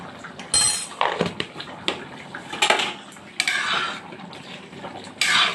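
A pan of cauliflower, potato and pea curry with garam masala is lifted off a stove, giving a run of close metallic clinks, scrapes and clatters of cookware and utensils with brief pauses between them.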